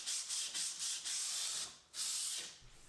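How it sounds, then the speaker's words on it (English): Rolled 100 grit sandpaper is rubbed by hand over a wooden kitchen worktop in short repeated strokes, a close hissing scrape with brief pauses between passes. "I sanded all the hard to reach areas by hand with 100 grit paper"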